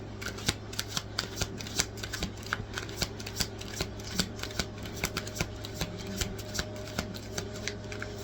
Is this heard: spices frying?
no